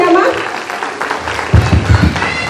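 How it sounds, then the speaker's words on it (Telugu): Applause from the audience at a women's empowerment meeting, honouring the speaker Leela Varma: a moderately loud, steady patter of many hands mixed with voices, thickening toward the end. "మేడంకి ఒక్కసారి గట్టిగా క్లాప్స్ ఇద్దామా?"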